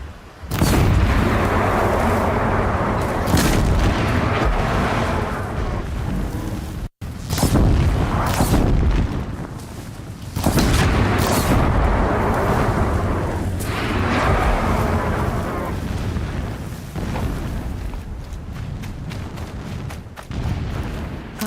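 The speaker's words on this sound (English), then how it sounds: "explosions in the distance" Rumbling explosions in Horizon Zero Dawn, heavy booming blasts rolling one after another in the distance, loud and sustained with a brief cut near the middle, no talking.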